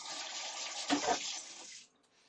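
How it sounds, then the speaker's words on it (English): Running tap water while hands are washed at a sink, a steady close splashing stream with a brief louder gush near the middle before the tap shuts off. "Wash my hands again."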